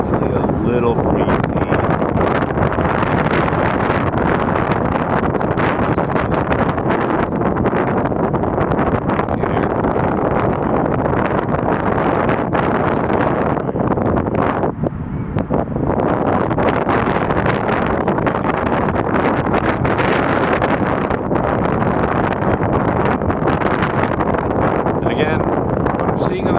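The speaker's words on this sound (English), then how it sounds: "we have vibration due to wind. It's definitely a little breezy." Strong breeze buffets an outdoor microphone continuously, a dense roaring rumble with gusty flutter that barely lets up, while a voice can be faintly picked out beneath it.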